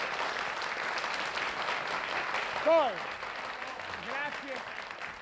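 Moderate studio audience applause runs steadily under an Italian television scene, with a voice speaking briefly over it partway through.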